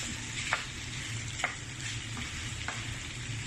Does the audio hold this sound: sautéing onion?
yes